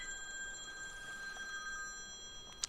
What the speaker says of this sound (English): And someone's calling me on the phone